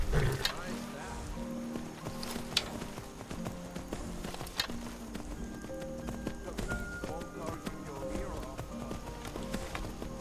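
Horse hooves walking in the video game Skyrim VR, steady soft clip-clop steps under game ambience, with a few sharper knocks and someone talking at times.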